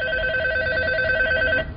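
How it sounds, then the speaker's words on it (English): RugGear rugged phone ringing underwater, a muffled electronic ringtone of steady sustained tones held close and loud, cutting off abruptly near the end. "So, it's ringing while it's underwater."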